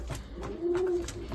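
Racing pigeons in a loft give a soft, low coo lasting under a second, close by, amid faint scuffling and light background noise.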